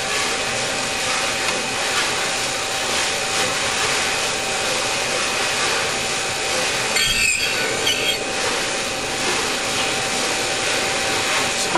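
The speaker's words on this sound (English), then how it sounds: "we'll go ahead and cut these stem ends" Machine cutting the valve stem ends from a Fiat 1200 Cabriolet cylinder head, a steady close grinding whir that runs throughout with one brief sharper burst partway through.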